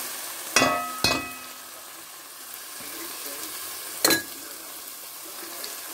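Salmon cooking in a pan, a quiet steady sizzle of frying with a few sharp clinks and stirring knocks of a utensil against the pan, three distinct bursts spread across a low background.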